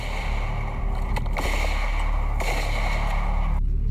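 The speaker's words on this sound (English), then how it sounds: "Towards the end of the clip, gunshots can be heard." Gunshots in police-recorded footage after a roadside blast, a few sharp cracks ringing out over a loud, steady rumble of background noise, with no clear speech.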